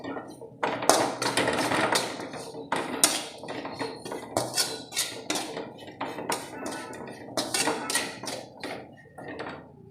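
Pork curry with chilli powder being stirred in a pan, loud repeated metal scraping and clanking strokes of a spoon against the vessel, continuous and close; no talking.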